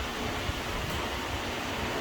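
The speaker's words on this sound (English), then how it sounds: "Sorry for the noise, guys. I got AC going and the fan going." An air conditioner and a fan run together in a hot garage, giving a steady, even whooshing hum with no breaks.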